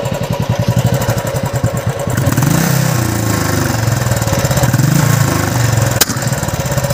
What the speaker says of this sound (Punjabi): ਆਪਣਾ ਕਲਾਸਿਕ ਬੁਲਟ ਇਹ ਸਾਇਲੈਂਟ ਸਲੈਂਸਰ ਚ ਪੜਾਕਾ ਮਾਰ ਦਿੰਦਾ